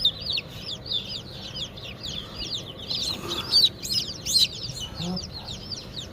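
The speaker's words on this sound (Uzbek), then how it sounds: "Avaylab ishlayapman jo'jalarni." Dense, continuous high peeping from many young chicks being handled during home rearing, bright overlapping chirps close by with a low background rumble and no speech.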